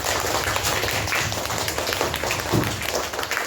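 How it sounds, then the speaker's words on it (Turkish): Applause at a school award ceremony for a first-grade girl receiving a diploma and first-place medal: a loud, dense, continuous patter of many people clapping at close range, with no speech. "Alkış var bir də Fatiməyə."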